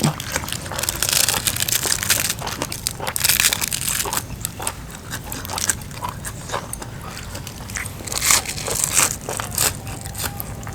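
Crunchy food is chewed close to the mic, a steady run of crisp, crackling bites with no talking.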